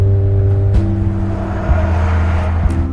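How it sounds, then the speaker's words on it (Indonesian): A car in a film speeds along a main road, its engine droning steadily and loudly with a brief surge midway and a sharp transient near the end. "Mobil melaju kencang di jalanan utama"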